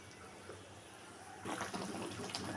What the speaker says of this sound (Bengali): ঝোলও ফুটতে শুরু করে দিয়েছে